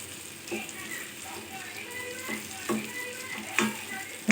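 Chicken pieces fry in a spice-coated pan, a steady close sizzle broken by a few scraping stirs, with a voice talking over the cooking.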